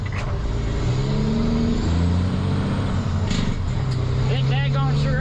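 Peterbilt 378 truck with a Caterpillar C12 engine and 18-speed transmission driving under load, a loud sustained engine drone with shifting tones from inside the cab, with a voice talking over it toward the end.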